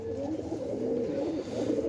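Pigeons coo steadily and close by at a bird-trapping spot, a continuous soft, throaty murmur of overlapping calls with no talk over it.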